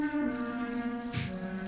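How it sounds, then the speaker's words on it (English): Crickets chirping at night in a 1967 sci-fi horror film, a steady high trill held continuously over a low background hum, with a brief soft burst of noise near the end. "Listen to the crickets."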